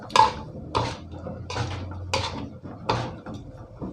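Pork belly stir-fried with fermented soybean paste and pepper, tossed with coriander stems in a pan with the gas off: a series of spaced metallic spatula scrapes and clinks against the pan, close and moderately loud, with no talking.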